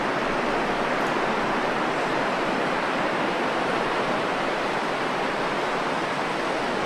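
Steady broadband wash of ocean surf along the California coast, a constant roaring hiss with no distinct breaks, close and loud throughout, no voices.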